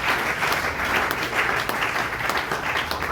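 A church congregation at a Sunday sermon bursts into loud, sustained applause, dense steady clapping filling the room throughout.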